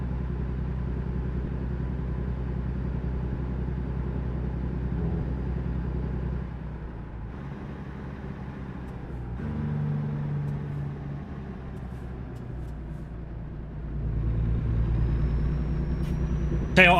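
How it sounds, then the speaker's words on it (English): A truck engine idling and rumbling in the video game From Scratch, a steady low drone that dips, then swells louder near the end, with no talk. "this truck's a bit loud"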